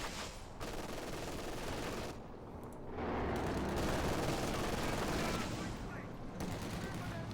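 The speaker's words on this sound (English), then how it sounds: "Field guns being hit out in an ambush mode, of course." Dense gunfire and impacts on field guns caught in an ambush in the strategy game Company of Heroes 2, a continuous crackling barrage that swells louder midway, with a voice talking over it.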